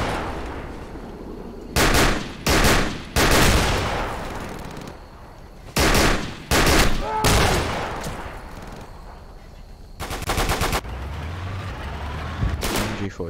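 MG42 machine gun fire in the World War II game Darkest Hour, loud close bursts of rapid gunfire in several separate volleys, each a dense roaring stutter, with distant battle noise between them.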